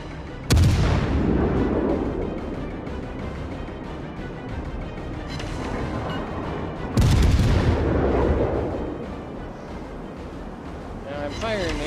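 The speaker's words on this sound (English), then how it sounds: "Bring our rear guns on there. really missing too many shots." A cruiser's naval guns in World of Warships fire two heavy booming salvos several seconds apart, each a loud blast rolling off into rumble, with a voice talking over the action.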